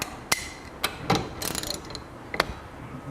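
A 17 mm wrench works on a 4CS motorcycle fork clamped in a vise, giving a few sharp metallic clicks and ratcheting taps with gaps between them, fairly quiet and close.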